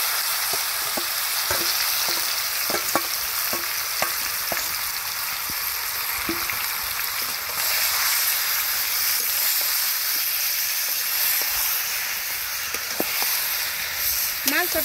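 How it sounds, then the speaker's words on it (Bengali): Marinated meat hits hot oil over whole cardamom, cinnamon, bay leaf and cumin for chicken curry, giving a steady loud sizzle throughout with scattered crackles and spatula scrapes close by. "গরম মশলার উপরে এখন এই যে মশলা মাখানি মাংসটা দিয়ে দেই"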